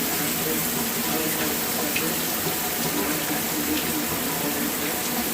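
Hot water pours steadily from a rain shower head, a dense, even hiss of running water that stays constant throughout without any talk.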